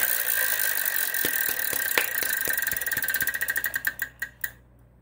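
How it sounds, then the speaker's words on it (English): A Wheel of Fortune game-show wheel spins, its rapid clicking rattle gradually slowing into distinct, spaced-out ticks before stopping, close and clear over a faint studio hum. "Andrea Libman, you won that toss, so spin the wheel."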